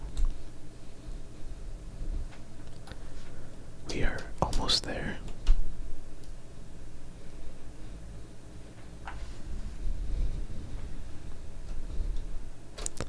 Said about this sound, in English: I hope me removing the keycaps isn't too loud.